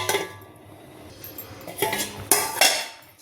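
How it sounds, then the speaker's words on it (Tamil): Metal clinks and clatters of a lid being handled and set on a pot of drumstick leaf soup, a few sharp ringing knocks after a quiet stretch, near and clear with no talking. "கொஞ்சம் மூடி வச்சுருவோம்"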